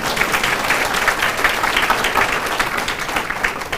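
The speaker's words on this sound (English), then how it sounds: "Go and clap for them" Steady, dense applause from an audience at a business breakfast and scholarship event, filling the room at an even level without pause.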